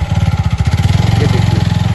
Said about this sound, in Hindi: जैसे हम बाइक स्टार्ट करते हैं और चलाते हैं